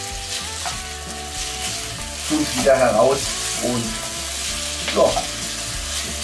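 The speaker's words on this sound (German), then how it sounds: "Ich hoffe, man kann es hören. Es brutzelt." Sausage pieces frying in a Dutch oven for a Zigeuner sausage stew, a steady crackling sizzle with louder bursts of spattering as the meat is stirred, close up, with a brief word spoken.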